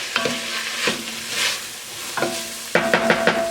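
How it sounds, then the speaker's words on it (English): Onions and peppers cooking for a bison carne guisada, with loud metallic scrapes and ringing clanks as a utensil stirs and scrapes the pan bottom in several bursts over a soft sizzle, no talking. "You want to get it in there and mix it up and scrape off all the stuff on the bottom of the pan"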